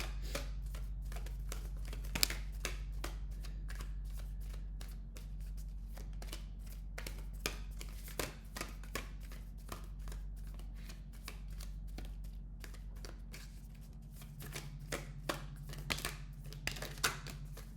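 Tarot cards being shuffled by hand in a quiet room, a long run of crisp riffling card clicks and flicks, close and steady, with a low hum underneath and no talking.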